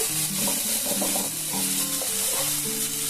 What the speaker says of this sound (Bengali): রসুন কাঁচা লঙ্কা আর আদা সমস্ত কিছু একসাথে খুব সুন্দরভাবে ভাজা হয়ে গেছে